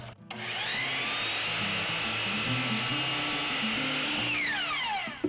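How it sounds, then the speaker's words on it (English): A miter saw trims a thin slice off a wooden board to square its edge: the motor whines up loudly, holds a steady high-pitched cutting drone for about four seconds, then winds down. "Now I'm over at the miter saw and I want to make sure that I have a nice square edge on this side"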